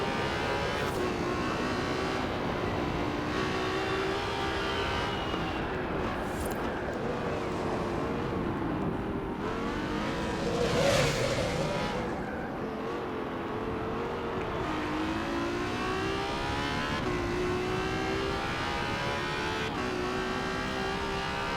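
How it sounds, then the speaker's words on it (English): Car engine in Forza Horizon 4 held at high revs, a continuous whistling hum with shifting tonal pitch over steady engine roar, fairly faint and with no talking. "It's like a whistling, humming noise that comes up as it gets to higher revs."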